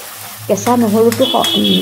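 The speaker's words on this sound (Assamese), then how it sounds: "এইখিনি মই এতিয়া ইয়াতে দি ভালকৈ ভাজিব লাগিব পূৰা ৰঙা হোৱাকৈ ভাজিব লাগিব" Ginger garlic paste frying in a pan for fish head curry, a soft sizzle beneath a voice speaking throughout, close and moderate in level.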